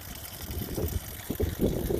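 Water drains from an RV's fresh water holding tank during winterizing, a steady close trickle and splash with low gurgling that grows fuller toward the end.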